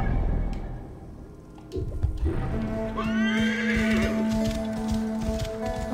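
A horse in the video game Assassin's Creed Origins neighs loudly in a long, wavering whinny, preceded by a few hoof clops and faint rustling.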